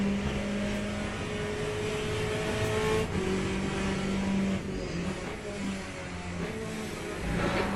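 A Ferrari race car engine at Spa in Le Mans Ultimate drones steadily at high revs, with shifting tonal whines as gears change and other cars nearby, continuous and loud throughout.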